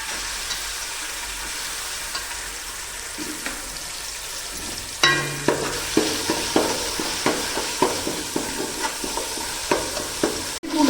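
Chicken and ginger-garlic paste sizzling and frying in oil in a pan, with a steady hiss and a run of regular scraping stir strokes growing louder midway.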